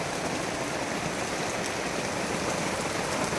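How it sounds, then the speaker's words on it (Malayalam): Heavy rain pours down outdoors by a road in a steady, unbroken hiss of dense drops, even and continuous with no voices. "അത്രമാത്രം മഴയാണ്"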